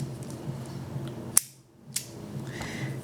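A Gerber multi-tool's scissors with a rugged wire spring snip twice, two crisp, close clicks about half a second apart over quiet room hiss.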